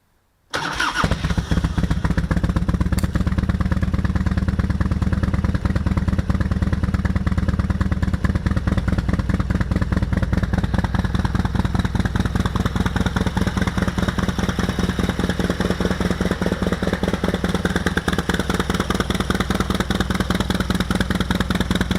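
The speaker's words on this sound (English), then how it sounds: "go ahead and fire the bike up and just let it idle until it dies." A Harley-Davidson motorcycle with a Keihin CV40 carburetor starts abruptly and settles into a loud, steady, lumpy idle that runs on without letup.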